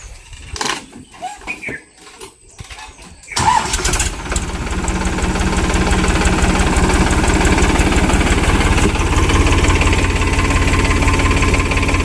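A Powertrac Euro 47 Plus 50 hp tractor engine cranks and catches, then settles into a loud, steady diesel idle with a rhythmic knocking chug. Faint voices come just before it starts.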